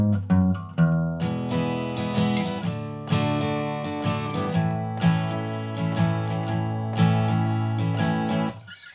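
Acoustic guitar picking the intro to a song, a steady run of plucked open-string notes and chord strums in an even rhythm, close and clear, with no voices.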